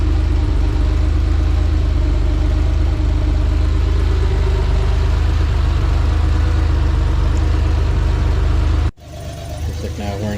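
A Porsche 911 engine with Bosch CIS K-Jetronic fuel injection runs loud and close, holding a steady rumbling idle with a slight rev before cutting out, after which the engine resumes more quietly.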